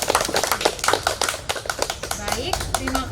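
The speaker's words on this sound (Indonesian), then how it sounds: "Mari kita berikan aplaus untuk kedua narasumber." An audience applauds for two speakers at the close of an Indonesian talk event, a brief burst of clapping heard under a presenter's voice that fades into speech.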